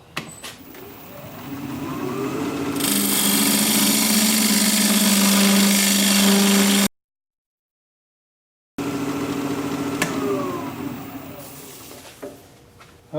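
A wood lathe turns a sycamore blank while a tool cuts a tenon, giving a loud, steady grinding whir that holds for several seconds, breaks off into silence, then resumes and tapers down.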